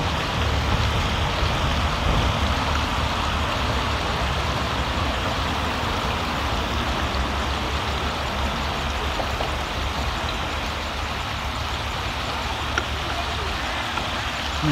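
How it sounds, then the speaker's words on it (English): Street traffic rolls past near a creek in a continuous, even roar of passing cars and trucks, broad rumbling road noise with wind-like hiss that never lets up. "You hear the traffic going by."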